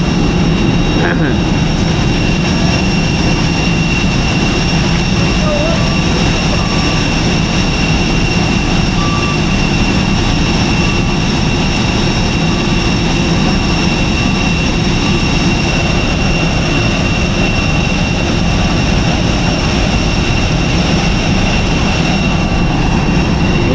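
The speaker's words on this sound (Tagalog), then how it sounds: "Oh, grabe yung aeroplano." A loud, continuous airplane engine roar, steady and droning without pause near a Palawan fishing area, with faint voices underneath.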